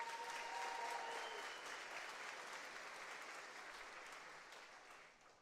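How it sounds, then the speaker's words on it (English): An audience at a Class of 2025 commencement ceremony gives a sustained round of applause, dense and steady at first, then slowly tapering off and fading out near the end. "let's give her a big round of applause for that."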